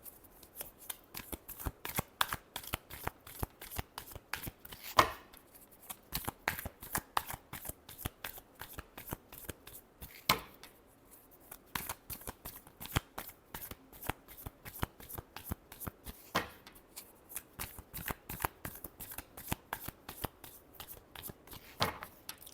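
Tarot cards are shuffled by hand up close in a long series of crisp riffle bursts, each a rapid flutter of snapping cards. Short pauses fall between bursts.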